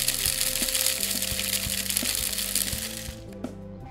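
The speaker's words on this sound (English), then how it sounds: "we're just gonna place it into our little spice grinder here. You could also use a mortar and pestle. We're just gonna crack it up." Whole cloves crack in a small spice grinder, a dense, close whirring rattle with sharp ticks that runs for about three seconds and then stops abruptly.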